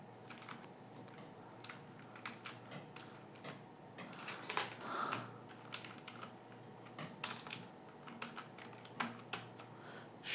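Typing on a computer keyboard while text is entered in an online shop's settings, a steady quiet patter of close key clicks with small bursts and pauses, no voices.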